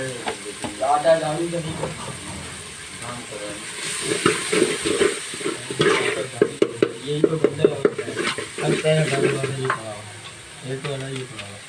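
Spices frying in a pan for a gobi and dal curry: a steady sizzle and hiss runs throughout, broken by stirring scrapes and clatter, while voices talk over it.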